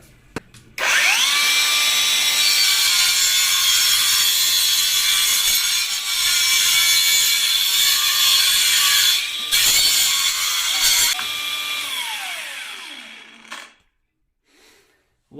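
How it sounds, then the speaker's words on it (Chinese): Angle grinder cutting through a toilet drain pipe, a loud steady high-pitched whine with sustained cutting tone, briefly dipping twice mid-cut, then spinning down near the end as the tool stops. "切这个管呢，直接角磨机"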